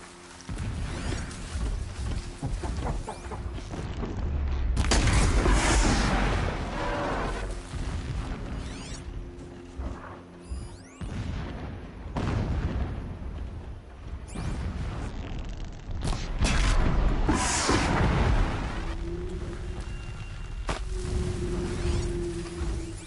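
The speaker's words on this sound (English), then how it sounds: "explosions in the distance" Rumbling blasts and whooshing bursts boom at a distance in the video game Horizon Zero Dawn, recurring every few seconds over a low ambient backdrop with some mechanical clatter.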